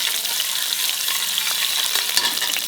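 Chopped garlic and coriander leaves frying in a pan, giving a steady close sizzle with scattered crackles and stirring scrapes throughout.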